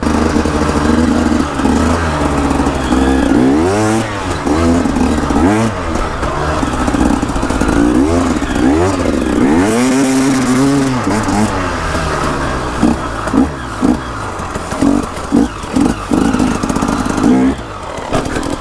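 An off-road motorcycle climbs hills at an abandoned mine site, its engine revving up and down in repeated loud surges and bursts close by, with some talk mixed in.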